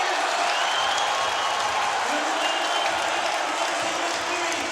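Crowd at a street skateboarding championship final cheering and applauding a frontside kickflip, a broad, sustained roar filling the clip with faint voices mixed in.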